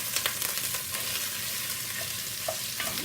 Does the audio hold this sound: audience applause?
no